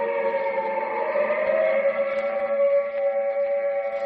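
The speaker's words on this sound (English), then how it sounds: "The siren is a musician of no value, knowing only one tune" A steady wailing siren with layered harmonic tones holds at a constant loud level throughout, with no voices, in a 1945 radio broadcast.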